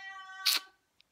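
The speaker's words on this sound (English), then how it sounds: "then I hear her meowing at me from the stairs" A house cat gives one short meow with a harmonic, tonal rise and a brief breathy peak, close by and fairly quiet, followed by a tiny click.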